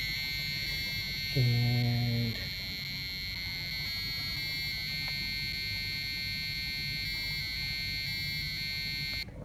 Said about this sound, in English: if I press my button 1, if you can see here, yeah, that plays my buzzer.